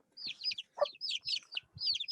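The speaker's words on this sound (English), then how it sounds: "Oh, I hear the rooster." A rooster and chickens making rapid high clucking calls in repeated bursts, fairly faint and distant, with no talk over them.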